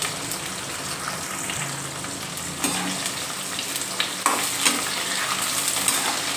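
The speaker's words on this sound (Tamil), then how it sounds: "நல்லா அப்படி ஒரு கிண்டலை கொடுத்து வதக்கி விட்டுக்குறோம், வதங்கட்டும்." Green chillies and garlic sautéing in a pan, a continuous moderate sizzle with occasional louder stirring scrapes and bursts.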